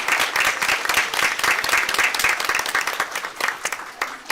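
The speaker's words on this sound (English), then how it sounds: "So we need to have a round of applause for all of you." Sustained applause from an audience at a school board meeting honoring students, a dense, steady wash of many hands clapping for several seconds, fairly close and loud, with no talk over it.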